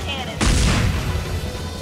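Anime parody Buster Cannon blast: a sudden loud boom that bursts in and rumbles on with a heavy low roar, filling the rest of the moment.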